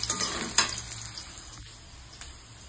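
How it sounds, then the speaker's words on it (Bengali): Potatoes frying in a pan, a close crackling sizzle with a few stirring clicks near the start, gradually settling to a quieter steady hiss. "আর এদিকে আলুটা ভাজা চলছে"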